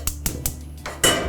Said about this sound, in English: We'll need a large frying pan.